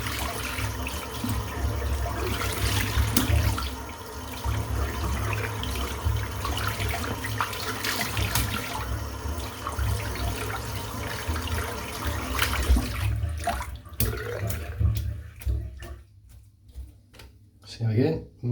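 Tap water running steadily to rinse a soapy shaving brush, a continuous splashing flow that breaks into brief bursts and stops near the end, with a voice talking over it.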